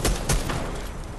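A grenade blast in Fortnite, two heavy booming thumps in quick succession followed by a fading rumble.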